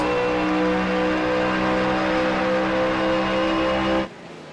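Race cars accelerate hard in a drag race in a racing video game, making a loud, steady engine roar with a strong whine that drops away sharply near the end.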